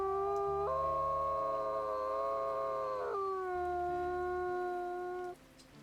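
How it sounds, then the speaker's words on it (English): Kindle, a wolf character in a survival game, lets out a loud, close double howl: one long sustained wail that bends to a new pitch partway through, then tapers off. "That's gonna be Kindle's double howl there"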